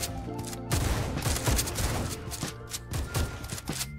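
Dense, continuous volleys of gunfire from sniper towers in the Roblox game Tower Defense Simulator, with rapid overlapping shots and booms forming a busy, loud battle mix.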